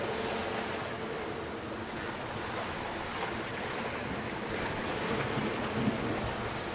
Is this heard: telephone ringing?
no